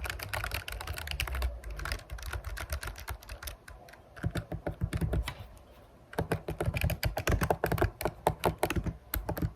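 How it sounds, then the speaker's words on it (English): Rapid, uneven laptop keyboard typing close by, bursts of clicking keys with a short pause in the middle before the tapping resumes. "I'm just randomly typing."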